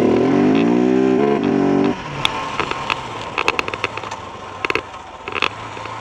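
KTM 690 single-cylinder motorcycle engine under way, a loud rising drone for the first two seconds, then dropping to a rougher, quieter rumble with scattered crackles and pops.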